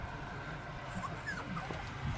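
Four-week-old puppies whimper and yip in a few faint, high, thin cries scattered over soft background noise, with no clear talking.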